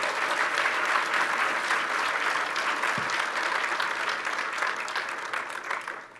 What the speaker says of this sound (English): I'd ask for a massive round of applause